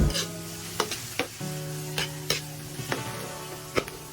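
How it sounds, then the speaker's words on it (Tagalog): Onion, ginger and garlic sautéing in cooking oil, a constant sizzle under a low steady hum, punctuated by repeated sharp clacks of a spatula against the pan. "Ginisa natin ang ating sibuyas sa mantika at ang ating luya mga idol."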